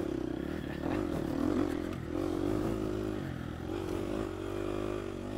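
Gas Gas EX250F dirt bike racing in a harescramble, a steady droning engine tone with shifts in pitch as the rider works through the course, sustained and fairly near with no talk over it.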